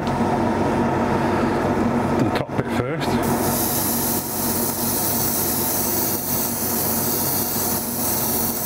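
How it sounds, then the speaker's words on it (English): Gold paint sprayed onto a panel, a continuous close hiss that holds steady apart from a short break partway through, then resumes evenly. "that gold is going on there and spraying very nicely"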